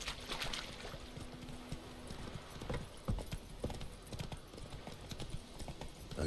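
Horse hooves clip-clop steadily from The Witcher 3 video game, a quiet, even trotting rhythm over a low background hum.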